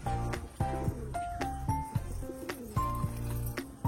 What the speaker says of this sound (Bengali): এটাও কিন্তু বন্ধুরা ভালো বাজি পায়রা।